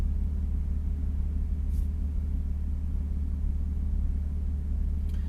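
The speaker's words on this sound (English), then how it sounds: "at idle with the muffler delete, there is actually a pronounced idling sound right now" A BMW E46 idles at about 800 RPM with its muffler deleted, giving a steady, low, throaty exhaust rumble that holds even throughout, with no talking over it.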